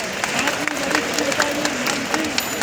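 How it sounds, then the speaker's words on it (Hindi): An audience at a free bicycle distribution ceremony claps in a steady, rhythmic pattern of crisp strikes, while a voice speaks over the clapping. "तालियां बजती रहना चाहिए।"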